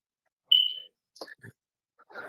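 A smoke alarm lets out one short, high electronic chirp, a low-battery warning, followed by brief indistinct bits of voice and other faint noises.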